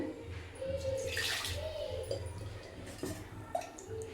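Water pours and splashes into a pot, a brief gurgling stream with some bubbling, close by.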